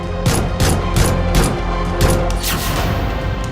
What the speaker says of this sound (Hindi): पटाखे नहीं, गोलियां गूंजी।